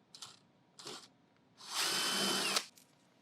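Power drill backing Phillips head screws out of the rear motor housing plate on an x20BT floor cleaner's recovery tank: two short whirring bursts, then one longer steady spin, close and clear.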